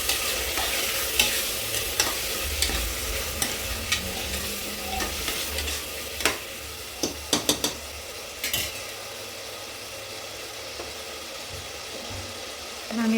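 Green chilies and rice chili powder fry in oil, giving a loud close sizzle. Scattered spatula scrapes and clinks against the pan come through the first half, and the sizzle settles into a steady hiss afterward.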